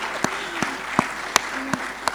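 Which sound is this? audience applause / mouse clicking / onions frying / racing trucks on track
audience applause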